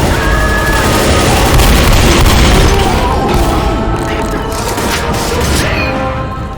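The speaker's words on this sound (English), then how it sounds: "Grenade!" Grenade blast in Left 4 Dead, a loud booming burst with crashing, crackling debris and gunfire-like noise that fades slowly over several seconds.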